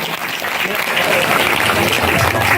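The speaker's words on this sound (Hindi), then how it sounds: "एक बार जोरदार तालियां हो जाए" An audience at a Bhagavat Katha religious gathering breaks into loud, sustained clapping that swells as the applause builds, while a voice speaks faintly beneath it.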